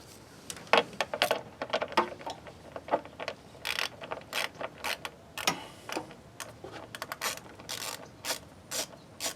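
A 7 mm ratchet works loose a clamp on a Volvo S60 T5 during an AC condenser removal, giving quick bursts of close, crisp clicking with brief pauses between strokes.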